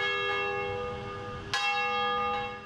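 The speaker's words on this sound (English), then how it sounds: "The sound of a bell." A single church-style bell rings on a Cleveland street, Seymour Avenue, with a sustained ringing tone that carries through, then is struck again about halfway through so a fresh bright clang rises over the fading resonance.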